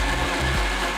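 A mixer grinder whirs loudly and continuously as it purees mango with saffron-infused milk, with a brief dip in the motor's pitch partway through the short burst.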